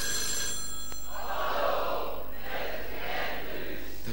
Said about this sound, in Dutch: Laat onze John even de telefoon gaan.